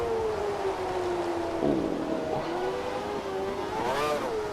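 A Formula 1 car engine in the F1 2013 racing game drones steadily at high revs while the car slides wide, its pitch sagging and then rising again as it accelerates, over constant tire and road noise.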